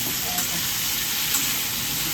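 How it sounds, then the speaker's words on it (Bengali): Potato pieces fry in a pan for a dal puri meal, giving a dense, even sizzle that fills the short stretch closely and loudly, with no speech. "আলুটা বেশ ভাজা ভাজা হয়ে গেছে।"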